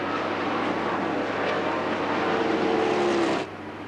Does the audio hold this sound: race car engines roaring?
yes